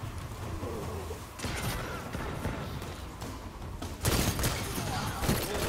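Gunfire in a competitive Crucible match in the video game Destiny 2: sharp bursts of shots over steady background game noise, with a louder volley near the end.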